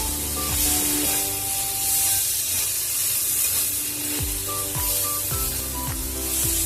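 Spice paste hits a hot pan while cooking a Bengali crab curry, kakra macher kosha. It gives a loud, continuous sizzling hiss close up, with a few faint ringing clinks underneath.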